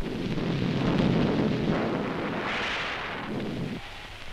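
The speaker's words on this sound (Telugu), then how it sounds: "అయ్యో వర్షం వచ్చేలా ఉంది. రానే వచ్చింది." A film scene has heavy rain beginning, with a deep, rolling rumble of thunder that surges loudly and then eases into a steady wash of rain.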